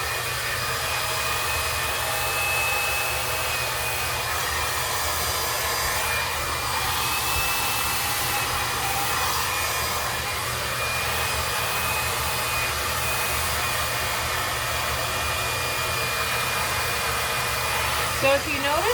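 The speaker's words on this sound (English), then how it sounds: "if you're going to blow out with a slightly smaller brush" A hair dryer roars loud and steady from start to finish during a blowout with a small round brush, its continuous rushing blast close and unbroken, with faint handling sounds near the end.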